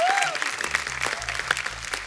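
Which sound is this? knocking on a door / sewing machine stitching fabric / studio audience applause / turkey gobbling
studio audience applause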